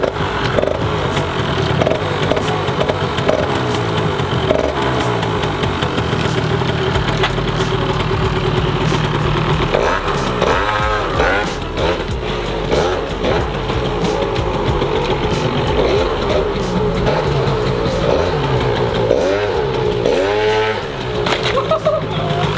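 A 180cc Thunder Runner scooter engine idles and revs roughly in a workshop, loud and close, with a ragged, knocking mid-pitched tone and a few throttle blips.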